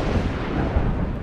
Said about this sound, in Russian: Вдруг где-то рядом послышался взрыв. Похоже, молния попала в дерево